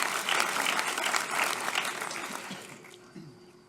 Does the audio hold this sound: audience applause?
yes